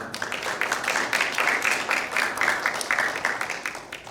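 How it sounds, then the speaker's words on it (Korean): Audience clapping for a professor's presentation at a Korean academic joint conference special session, a dense steady patter of many hands lasting throughout, moderately loud with no voices over it. "좋은 발표해 주신 정상희 교수님께 박수 한번 부탁드리겠습니다"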